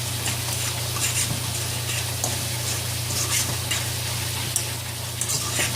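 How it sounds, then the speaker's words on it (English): Saltfish sizzling in a pan with ackee as it is stirred in, a constant crackling hiss with a low steady hum beneath and occasional scraping ticks of the stirring, close and even throughout. "Now I'm going to go ahead and add the saltfish. And I'm going to mix that around."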